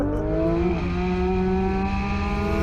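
A GT3 sports car in comfort mode pulls away hard, its engine a loud, steady close-up drone that climbs in pitch early on, then holds a strong, even note throughout.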